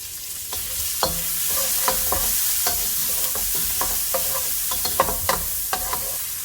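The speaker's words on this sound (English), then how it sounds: "Now I'm going in with my onion. That's yellow onion and the scallion whites." Yellow onion and scallion whites sizzle in hot oil for fried rice, with steady frying hiss broken by repeated clanks and scrapes of a utensil stirring the pan, close and fairly loud, no talking.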